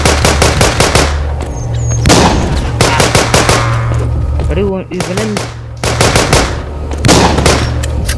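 Rapid bursts of gunfire in a zombie video game ring out loud and close in repeated volleys. A voice speaks briefly between the shots.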